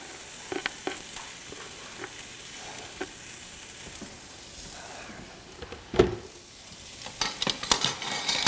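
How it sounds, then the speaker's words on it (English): Onions and garlic sizzle steadily in hot olive oil, a constant crackling hiss with occasional clinks and stirring knocks. "You want to hear that sizzle?"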